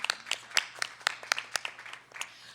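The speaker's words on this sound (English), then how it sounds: "Let's give them a round of applause." A small audience claps at an American Legion Auxiliary Empire Girls State announcement, a few sparse, distinct claps in an uneven rhythm that fade slightly toward the end, faint overall with no talk.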